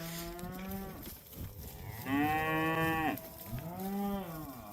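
Heifers being sorted for a breeding sale moo loudly and close by, several drawn-out calls one after another with a short pause between them and no one speaking.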